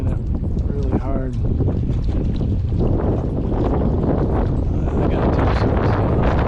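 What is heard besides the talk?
wind blowing on lakeshore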